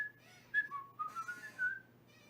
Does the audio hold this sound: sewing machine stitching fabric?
no